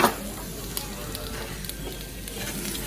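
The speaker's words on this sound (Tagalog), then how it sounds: "Beef steak ni TJ. With hot plate." Beef steak served on a hot plate sizzles steadily up close, a continuous hiss with small crackles and pops running throughout.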